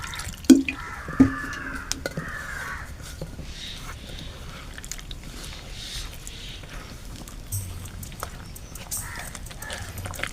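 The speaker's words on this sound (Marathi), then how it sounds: "त्याच्यात पाणी घालू त्याच्यात." Water poured into rice flour for a thin batter, with scattered drips and light splashes in a quiet kitchen, faint voices murmuring underneath.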